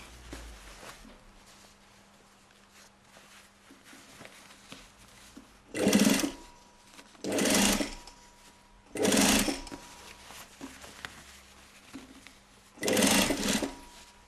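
A sewing machine stitches a seam on a basque corset in four short bursts, each a second or so long, separated by quiet pauses with faint handling sounds. Each burst is loud and close.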